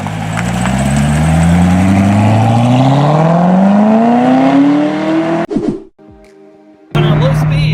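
Chevy Corvette ZR1 accelerating on a normal road, its engine note climbing steadily in pitch through a gear, then a sudden cut to a quieter, more muffled engine before the loud engine sound returns.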